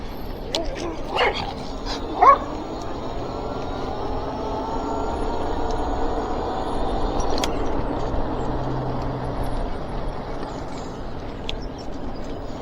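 Dogs being walked in the middle of a road give a few short yips and barks early on, heard over steady wind and tire rumble from a passing e-bike.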